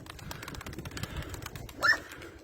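Pigeons released to fly on a sunny, windy day are faintly heard with soft fluttering and shuffling, and a brief chirpy call stands out near the end.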